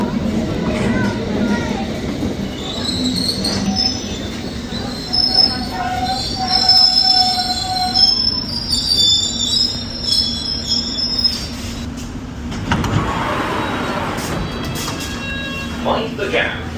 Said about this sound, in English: the sign says that there is a train due to come in any moment now, and it will be the Wimbledon train